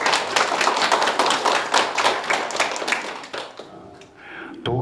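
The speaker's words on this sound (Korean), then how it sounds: "여러분의 큰 박수로 시작하겠습니다" An audience at a 50th-anniversary memorial gathering applauds to welcome a speaker's remembrance, brisk, dense clapping that thins out and fades near the end as a voice begins.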